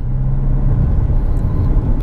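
A 2017 Jeep Compass Longitude diesel 4x4 driving on the road in eighth gear at around 80 km/h, a loud, steady low engine and road rumble with a continuous whir as it accelerates.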